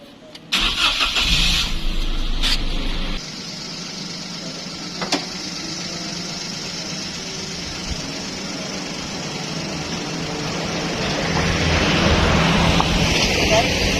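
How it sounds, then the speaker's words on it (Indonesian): The engine of a 2016 Daihatsu Ayla small car cranks briefly and catches, then settles into a steady idle hum close by, rising slightly toward the end. "sambil lalu kita hidupin aja mesinnya"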